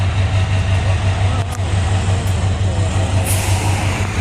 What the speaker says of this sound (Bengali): আমাদের কাঙ্ক্ষিত কলেজ বাসটি চলে আসলো।